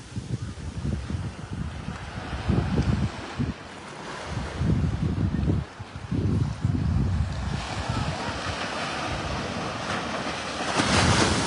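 Sea waves wash and surge onto Surin Beach in Phuket, Thailand, a steady broadband roar with swelling pushes of surf, some wind buffeting on the microphone, and no talking.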